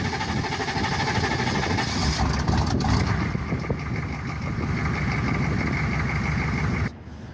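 A truck engine with a weak lift pump runs with a rough, steady mid-pitched drone and some knocking. It continues for several seconds and then cuts out abruptly near the end, heard up close with no talking.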